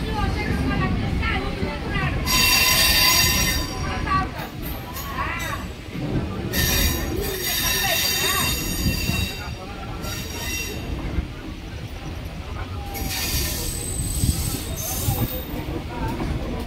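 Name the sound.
Dhauli Express train running on rails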